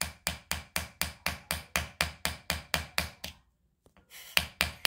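A hammer strikes rock while digging for gems: about fourteen sharp, evenly spaced metallic blows ring out close by, a short pause, then a few more quick hits, with no talk over them.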